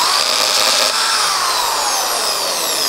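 A power drill bores larger holes through a plywood strip for a picture frame build, its motor whine loud, close and steady for about three seconds with no pause or talk.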